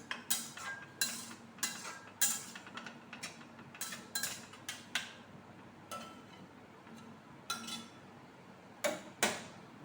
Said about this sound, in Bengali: দিয়ে আবার একটু নাড়াচাড়া করি, সব মশলার সাথে দইটাকে মাখিয়ে নিই